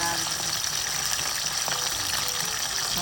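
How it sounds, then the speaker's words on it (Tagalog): Marinated fish frying in a pan for breakfast, a steady bright sizzle and crackle of hot oil throughout, fairly close and even, with faint background noise. "ako po yung nagpiprito na"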